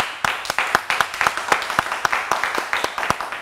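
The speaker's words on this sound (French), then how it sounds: "Ça s'applaudit." A small audience applauds during a francophone talk-show segment in Abidjan, with sparse, distinct hand claps in an uneven rhythm, moderately close and fairly loud, with no talking over them.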